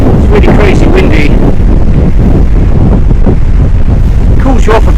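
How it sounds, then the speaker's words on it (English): Strong gusty wind buffets the microphone on a country lane during a bikepacking ride, a loud continuous roar with rumbling low-end bursts throughout. "It's really crazy windy."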